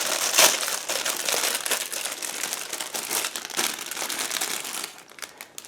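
Crinkly plastic packaging of an IBG Models 1/72 PZL 23A Karas model kit rustles and crackles steadily, with a sharp tearing snap near the start, then quieter crinkles trailing off.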